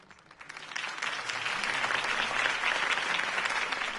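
A crowd in the Batman Telltale video game breaks into applause, rising quickly from quiet to a sustained, dense clapping that continues to the end.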